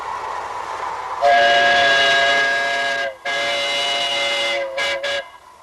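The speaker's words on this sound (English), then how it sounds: "These trains are called live steamers." A miniature live steamer steam train on a backyard railroad in Montecito, California sounds its whistle in a loud, sustained blast, breaks off briefly, then blows again with a few short toots at the end. No one speaks.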